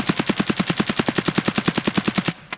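An AKM rifle firing BP rounds in Escape from Tarkov, a long full-auto burst of about twenty evenly spaced, loud, close shots that stops abruptly near the end.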